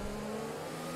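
Ferrari Formula 1 car engine in the racing game F1 2020, a steady loud high-pitched whine held for about a second with no voices over it.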